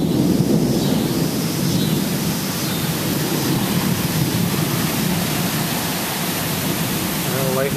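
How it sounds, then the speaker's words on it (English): Strong wind from an approaching thunderstorm roars as a steady, loud broadband rush with low rumbling beneath it, continuous for several seconds without speech. "Now the winds are picking up."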